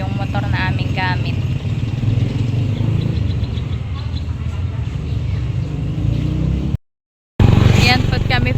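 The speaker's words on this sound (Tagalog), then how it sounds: "ipapark po niya yung motor na aming gamit" A motorcycle engine idles and putters nearby while being parked, steady and fairly loud, with voices talking over it and a brief cut near the end.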